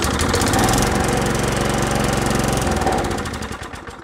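A Lawn-Boy mower with no pull-cord resistance fires up on primer fuel, its small engine roaring loud and close with a rough, knocking beat, then sputtering and fading as the primer runs out.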